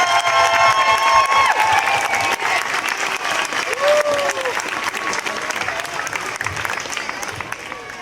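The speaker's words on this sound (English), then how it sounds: "So let's have another round of applause for the class of 2015." Outdoor crowd applause and cheering for an elementary school's graduating class of 2015 at a clap-out, loud and sustained, with whistles and children's shouts mixed in.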